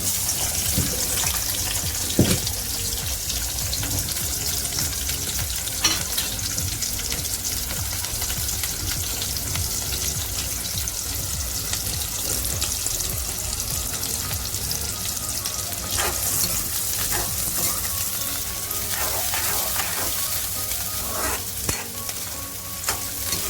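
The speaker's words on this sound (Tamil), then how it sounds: "இப்போ நம்ம போட போகிற வெங்காயம்." Onions sizzle and fry in hot oil in a pan while a South Indian ridged gourd and potato dish is cooked, a loud, steady crackling hiss with occasional stirring clicks throughout and no talk.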